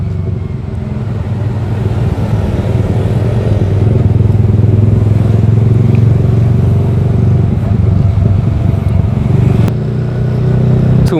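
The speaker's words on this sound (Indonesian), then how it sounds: "Pak Polisi juga seneng kalau denger knalpot ini mah." A Yamaha R15 V3 motorcycle fitted with a Daytona Evolution exhaust rumbles steadily close by, a constant low engine drone with clattering texture that eases slightly near the end, on a road in Sukabumi, Indonesia.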